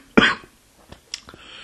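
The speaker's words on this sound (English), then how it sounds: "It's bursting out so much, it's made me cough there." A single sharp, close cough, followed by faint throat sounds and breaths in a quiet room.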